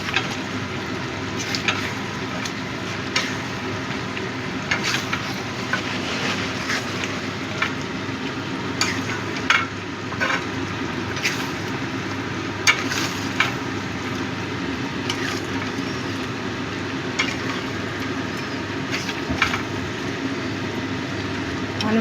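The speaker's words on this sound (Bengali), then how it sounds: "মিট মশলাটা দিয়েও ভালো করে মিশিয়ে দেবো।" Mutton curry with meat masala sizzles in a pan while a spoon stirs it, making repeated scraping and clacking strokes over a steady frying hiss that lasts throughout, close and moderately loud, with no voices.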